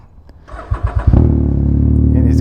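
A motorcycle fitted with an aftermarket exhaust fires up and settles into a loud, throaty, steady idle rumble after a few sputtering catches, close by.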